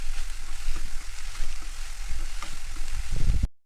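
Carrot and onion frying in ghee in a wok, a steady close crackling sizzle with small pops and the scrape of stirring, ending in an abrupt cut to silence.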